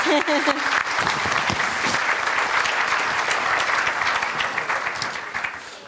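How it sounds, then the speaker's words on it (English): An audience at a community forum breaks into loud, sustained applause after a panel, with clapping filling the room and fading slightly toward the end; a voice is heard briefly at the start. "Please give everybody a round of applause"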